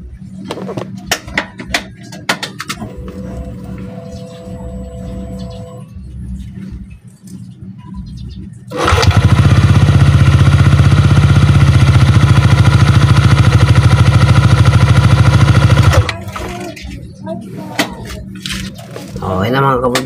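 A Yamaha NMAX v2 scooter, just fitted with a new oil seal, starts and idles loudly and steadily for several seconds before shutting off, with someone talking before and after.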